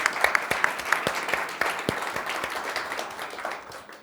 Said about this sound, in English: A round of applause for the American Writers Museum.